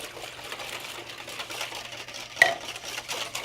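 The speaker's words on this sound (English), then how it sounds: "We're going to whisk that in" Two eggs, two cups of milk and a little yellow mustard are whisked into a wet batter for fried fish. A quiet, steady scraping and stirring goes on throughout, with one brief clink near the end.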